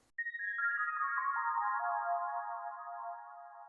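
A bright synthesizer tone from the Hive 2 synth plays a quick descending run of notes, then holds a sustained shimmering chord that slowly fades, clean and alone.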